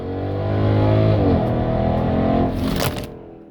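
A Mercedes-Benz SLK55 AMG accelerates hard in first gear, its engine note climbing loud and close from inside the car before a quick shift and easing off.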